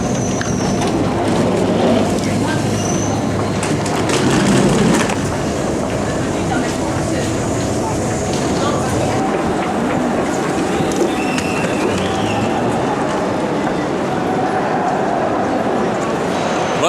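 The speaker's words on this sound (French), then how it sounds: "on est dans le train" A steady rumble of a train in motion, with rattling carriage noise and rhythmic clacking of wheels on track throughout, heard from inside.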